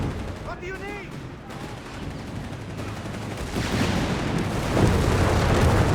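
Gunfire from a Panzer III's 50mm cannon in a desert battle in Company of Heroes 3, heard as dense, continuous rumbling bursts and booms that grow louder toward the end.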